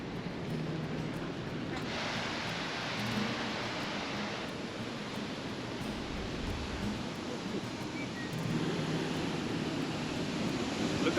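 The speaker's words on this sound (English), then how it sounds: "The water we see crashing over these falls is the same water we saw melting from the toe of the Athabasca Glacier." Sunwapta Falls in Jasper National Park, glacier meltwater crashing over the falls: a steady, loud roar of broadband rushing water that holds constant throughout, with no talk.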